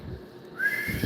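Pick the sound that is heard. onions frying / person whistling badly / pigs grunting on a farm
person whistling badly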